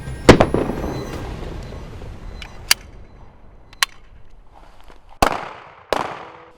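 Gunfire on a military firing range where civilians train to defend Germany: a handful of sharp, loud reports, irregularly spaced, each with a short ringing decay, heard alone without talk.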